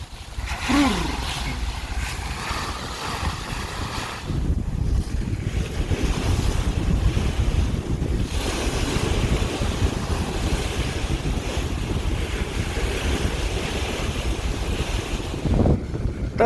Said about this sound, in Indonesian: Deburan ombak.